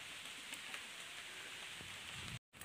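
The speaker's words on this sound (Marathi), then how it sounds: "हे बघा पाऊस चालू झाला" Steady rain falls outdoors in a village, a dense, even hiss of drops that holds for about two and a half seconds before cutting off abruptly.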